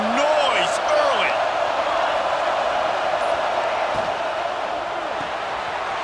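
In a Penn State versus Florida football video game, the stadium crowd sends out a broad, steady roar with scattered whistles and calls, loud at first and easing off slightly toward the end.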